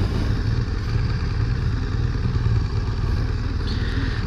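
A new BMW R 1200 GS motorcycle's large two-cylinder boxer engine idles steadily nearby, a low, even mechanical throb with light clatter and no talk.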